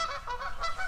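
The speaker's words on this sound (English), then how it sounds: "this thing is just filled with water birds, waterfowl of different kind, ducks and geese and the normal things" Geese and ducks on a reservoir cove below a bluff honk repeatedly in a loose overlapping chorus, several harsh calls in under a second, moderately loud and fairly close, with no talking.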